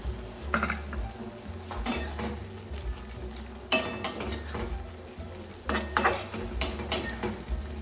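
A pot of tomato and potato curry being stirred in a village kitchen, with a spoon scraping and clinking against the metal pot in irregular bursts over a low background hum.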